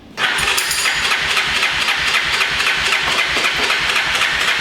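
A 1995-era Honda Fourtrax TRX 350 ATV, long parked and running on its own carburetor, catches and settles straight into a loud, steady, close idle with an even chugging rhythm.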